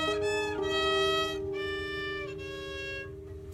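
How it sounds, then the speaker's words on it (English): A violin strung with steel strings plays a few sustained, bright bowed notes that change pitch about three times, close and clear, ringing alone without any voices. "That's what steel strings sound like."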